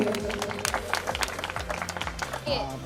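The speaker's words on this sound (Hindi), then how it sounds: "तालियां सर के लिए।" Applause from an audience at a Prajapati community event in Bidasar, after a 51,000-rupee donation is announced on stage; scattered claps come through loud music and a sustained voice.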